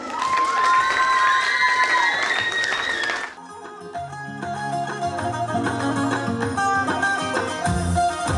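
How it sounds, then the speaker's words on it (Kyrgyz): An audience claps and cheers at a children's studio concert in a school, the crowd noise loud and steady for about three seconds before it gives way to music. "кол чаап тосуп алыңыздар."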